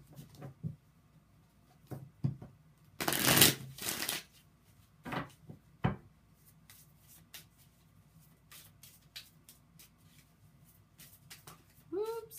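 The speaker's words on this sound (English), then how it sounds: "So I'm going to shuffle her up, find out what are the energies of 2017 going to be like." A deck of tarot cards being shuffled by hand: a few brief, crisp riffling bursts, the loudest near the start, followed by lighter taps and card handling, close and quiet.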